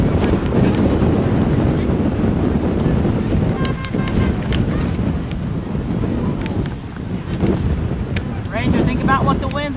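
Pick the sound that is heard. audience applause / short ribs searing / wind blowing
wind blowing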